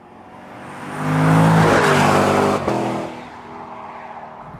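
A Lexus LC convertible engine revs up hard, its note swelling and rising over about two seconds before easing back to a lower hum, close and loud.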